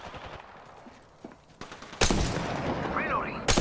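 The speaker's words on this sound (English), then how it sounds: "Getting shot at." Gunfire in Apex Legends, starting with scattered quieter shots and then a loud, sustained burst of rapid automatic fire, with faint game effects underneath.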